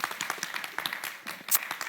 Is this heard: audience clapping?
yes